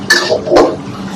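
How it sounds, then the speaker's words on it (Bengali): Chicken lollipops being stirred in a pan, with two short scraping clatters of a utensil against the metal, close and fairly loud, over a low kitchen background. "দেখেন এটা দিয়ে এখন নাড়াচাড়া করতে থাকবো।"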